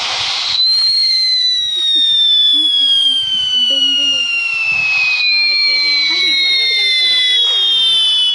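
Firecrackers going off in a Diwali video game, with long descending whistling tones like rockets streaking overhead, sustained and loud through the whole stretch, and people talking faintly underneath.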